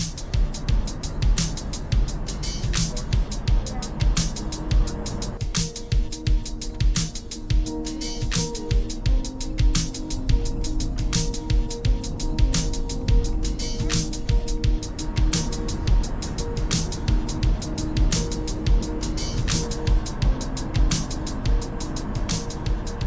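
A car driving through southern Idaho, a steady loud rumble of engine and road noise running throughout with frequent small knocks and rattles from inside the cabin.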